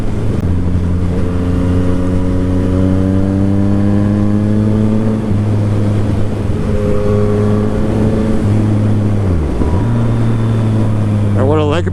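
A Yamaha FZ-09 motorcycle engine drones loudly and steadily while being ridden, its pitch rising through a long pull before dipping briefly and climbing again near the end, with someone talking over it.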